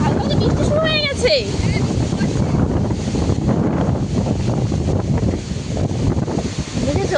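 A strong canal current rushes during a sudden storm with light rain, a loud continuous wash heavily buffeted by wind against the microphone, and a person talks over it.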